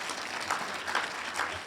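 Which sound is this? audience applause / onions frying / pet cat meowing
audience applause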